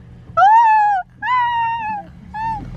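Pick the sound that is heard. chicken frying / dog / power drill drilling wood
dog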